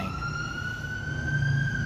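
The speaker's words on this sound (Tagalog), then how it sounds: "padaanin muna natin yung ambulansya" An ambulance siren wails steadily with a high sustained tone and harmonics, fairly loud and continuous over low traffic rumble.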